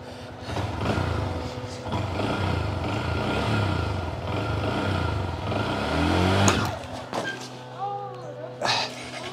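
A Honda Grom motorcycle revs hard during a wheelie attempt, its engine note rising and falling close by, with a sharp rev burst near the end and people talking over it.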